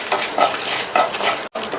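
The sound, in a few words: mustard, coriander seeds and dried chilies roasting in oil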